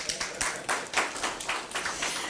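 Audience clapping at a bank-related event in Ghana: a handful of separate, uneven claps and taps in loose rhythm, fairly close, without the sustained wash of full applause.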